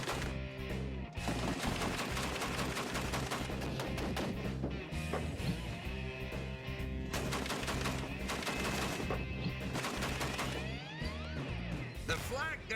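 A flak gun mounted on a military half-track fires repeated rapid bursts, loud and close, with dense clattering reports and mechanical rattling under heavy background sound.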